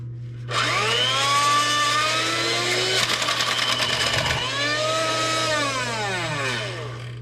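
An electric kitchen mixer whirs on low speed nearby, its motor tone climbing and dipping in pitch, with a brief rattling burst midway before it settles and winds down near the end.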